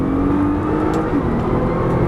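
A Nissan GT-R's engine drones steadily and loudly on a race track, holding a strained tone as it accelerates, heard from close by.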